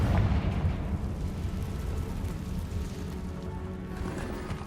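A Confringo blasting spell bursts in Hogwarts Legacy inside an old cave, a loud booming explosion at the start that decays into a long rumbling tail of debris and echo.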